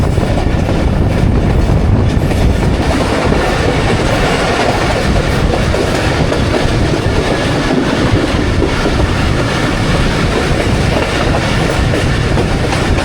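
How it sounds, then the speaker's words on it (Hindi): The Jaffar Express runs through a railway station on its Attock to Rawalpindi route, a loud, steady roar of wheels and cars with rhythmic clickety-clack, filling the whole stretch close by with no talk. "वहाँ रेलवे स्टेशन को थ्रू पास करने वाली है 40 डाउन जाफ़र एक्सप्रेस"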